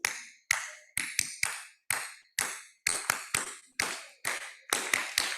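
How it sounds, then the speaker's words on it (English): A crowd at a university inaugural ceremony performs a patterned group clap: about fourteen sharp, unison claps in an irregular rhythm of singles and quick pairs, each crisp and ringing, with silent gaps between. "let me teach you Amity clap"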